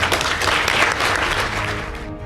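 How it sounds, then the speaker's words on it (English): Audience applause for John Cohlan, CEO of Margaritaville Holdings, at the Economic Club of Florida, a dense burst of clapping from a crowd that holds steady and then tapers off at the end. "Let's give him another round of applause."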